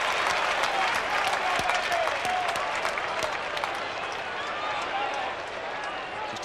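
Football crowd at a 1987 Round 7 match roaring after Robbie Flower's first goal in his comeback game, a loud continuous wall of cheering and applause from a large stadium audience, easing slightly toward the end.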